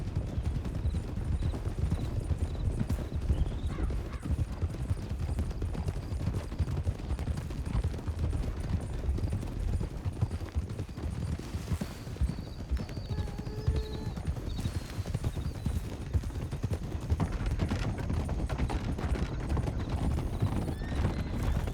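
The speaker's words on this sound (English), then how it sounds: "there goes a horse there" Horse hooves clip-clop steadily through an outdoor scene in a video game, riding along, with occasional whinnies and a few distant gunshot-like bursts over a continuous ambient bed.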